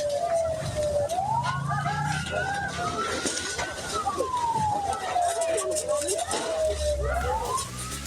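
Fire truck sirens wail at the scene of a fire at a scrapyard, a rising and falling tone that sweeps steadily and loudly over constant traffic and crowd noise, with voices talking underneath.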